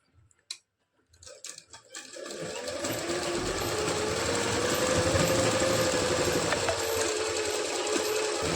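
After a few handling clicks, a sewing machine starts and runs steadily, stitching the elastic waist of a palazzo pant with a fast, even whirring patter that holds close and constant to the end.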